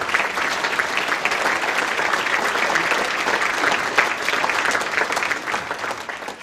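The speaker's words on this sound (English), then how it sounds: "Ladies and gentlemen, put your hands together once more for Claude Harvey." A large audience at the 2023 Queensland Australian of the Year Awards applauds steadily, a dense, loud wash of clapping that holds evenly throughout and fades slightly at the end.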